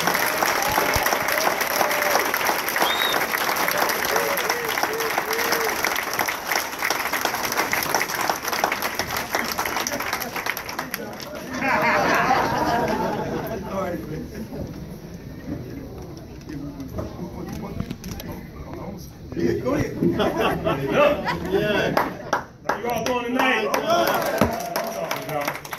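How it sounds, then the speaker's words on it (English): A crowd applauds for Philadelphia mayor Jim Kenney at a DC 33 union endorsement event, loud clapping for about ten seconds that then thins into scattered claps, cheers and voices talking. "Let's give him a big round of applause."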